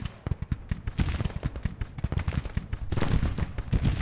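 Artillery bombardment in the Civil War strategy game Grand Tactician: The Civil War, a rapid, irregular barrage of sharp booming cannon shots, dense and loud, thickening toward the end.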